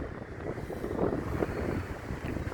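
Steady wind roars over the clifftop promenade at Blackpool by the sea, a continuous loud rushing buffeting the microphone for the whole stretch.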